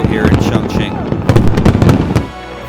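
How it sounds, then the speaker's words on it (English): Fireworks launched from a barge on the water in Chongqing at a New Year celebration, bursting in loud rapid clusters of booms and crackles, with a crowd and voices talking underneath. "You can see the fireworks are from the barge out in the middle of the water there"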